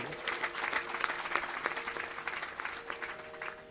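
Audience applause at a Swami Ramdev yoga gathering, a burst of dense, steady clapping from many people lasting several seconds before thinning out at the end.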